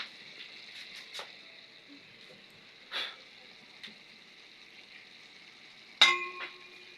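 A metal lid is set on a cooking pot with a sharp clank near the end, amid faint sizzling and a few scattered kitchen clinks; a voice speaks quietly in the background.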